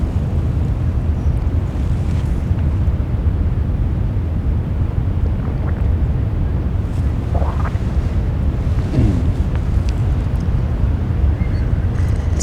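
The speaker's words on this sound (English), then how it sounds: "it sounds like it's wind up there, but I think it's just the ocean reflecting off of I think so. Off of the cliffs, bluffs." Ocean surf echoes off coastal cliffs and bluffs in the redwoods at night, a continuous low roar like wind with gusty buffeting on the microphone, heard from a distance without talk.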